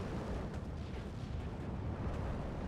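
Anti-aircraft flak guns firing in the Steel Division 2 war game, a dense rumbling barrage of overlapping booms and bursts under a constant low roar, with no talking.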